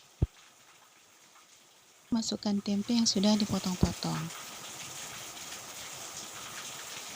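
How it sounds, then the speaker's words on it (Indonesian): Heavy rain pours outside a kitchen during cooking of tempe bacem, a constant soft hiss in the background while someone speaks over it, preceded by a single sharp knock. "Ternyata di luar masih hujan, saking derasnya sampai kedengaran."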